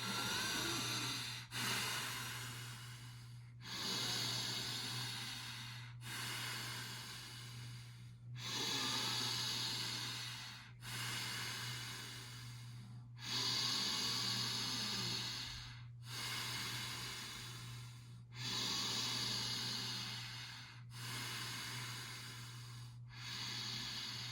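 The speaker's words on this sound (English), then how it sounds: "10 more deep breaths in." Slow, deep breathing during a yin yoga class, about ten long inhales and exhales in an even rhythm, close and soft over a low steady hum, with no talking.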